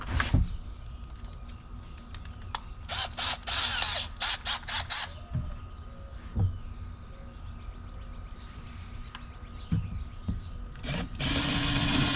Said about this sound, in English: I'm going to drill some holes